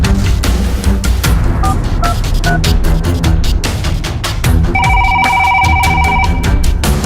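A telephone rings with repeated electronic trills over loud, dense game music, the ringing tones bright and clear above the busy background.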